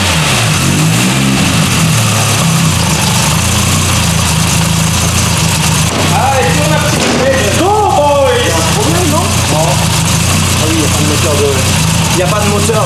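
An Audi car engine starts and settles into a steady idle on a dyno, its low continuous rumble running throughout while people talk over it in the middle stretch.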